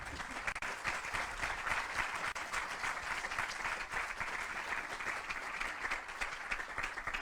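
An audience at an expert panel on Big Data in public services gives its four panelists a long round of applause. The clapping is steady and continuous but soft and distant, with no speech over it.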